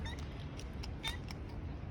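Stray cat being fed, giving several faint, short meows at irregular intervals over a steady low background rumble.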